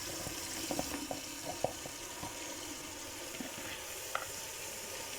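Lentils sizzle in frying masala in a cooking pot as they are stirred, giving a steady hiss with light scraping and clinking, close but fairly quiet, with no talking.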